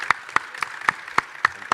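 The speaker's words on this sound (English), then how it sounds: "Let's have a big round of applause for our keynote panelists." An audience at a data-centre conference's main stage claps for the keynote panelists: sharp, evenly spaced hand claps in a steady rhythm, fairly close and moderately loud, with no voices over them.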